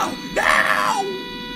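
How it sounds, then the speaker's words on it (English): A train in the Rails Unlimited video game lets out a short, rising-and-falling screaming wail, loud and alone for about half a second. "I think the train screamed just now."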